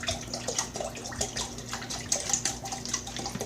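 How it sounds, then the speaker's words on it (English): Seltzer water pours into a container, a bubbly, fizzy splashing stream with small crackling pops, steady and close at moderate volume. "this right here is going to contain 2 cups of seltzer water. So I'm going to pour that in real quick."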